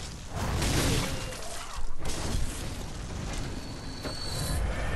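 A Molotov fire bomb bursts in Bloodborne, a loud whooshing blast with a sharp crackling flare near the two-second mark, set against a dense, continuous roar of game noise.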